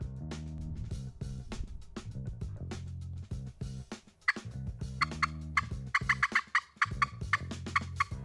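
Wild turkey gobbling during a Texas spring turkey hunt, heard as several bursts of rattling gobbles, a run of repeated calls in the first half and sharper, more scattered gobbles later.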